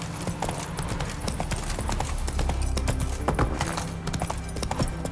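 Roach, a horse in the video game The Witcher 3, clip-clops at a steady walking rhythm, with close, crisp hoof strikes over a constant background ambience and no talk.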